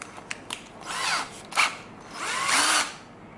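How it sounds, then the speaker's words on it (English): A handheld power drill spins up in short bursts while hanging new door hinges, three whirring runs of rising and falling pitch between brief pauses, close by with no voices over it. "So I got my drill here"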